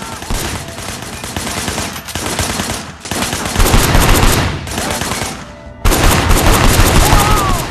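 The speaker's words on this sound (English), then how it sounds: "Shooting at the guys over there." Sustained automatic gunfire from a shootout in the video game Sleeping Dogs, loud and dense bursts of rapid shots running continuously with brief dips, alone without talk.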